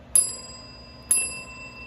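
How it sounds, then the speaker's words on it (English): A Staples call bell is struck twice about a second apart, each a bright metallic ding that rings out and fades in a quiet room. "Make sure to like and subscribe with this bell."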